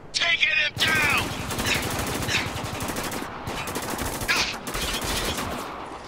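Dense automatic gunfire rattles on in the war shooter Spec Ops: The Line, with rapid bursts under a loud, continuous battle din and occasional sharper cracks.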